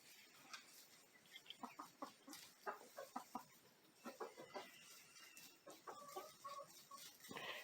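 A young Rhode Island Red chicken clucks repeatedly in quick, irregular bursts, faint and close in a quiet indoor pen.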